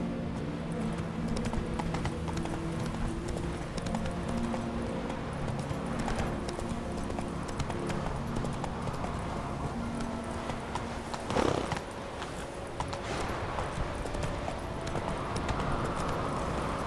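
Horse hooves clip-clopping steadily in The Witcher 3, a continuous rhythmic trot under game ambience and music, with a brief louder thump partway through.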